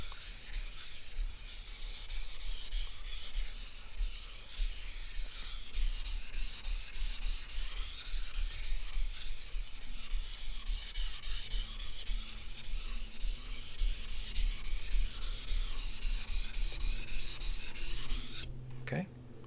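A yanagiba sushi knife is stroked back and forth over a soft, budget whetstone, giving a continuous close, gritty scraping with a brief pause near the end.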